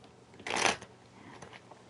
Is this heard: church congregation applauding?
no